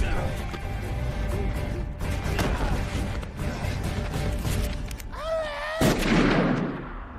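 A gunshot in a horror film set in the woods: one sharp, loud shot bursts out near the end of a dense bed of tense score and effects.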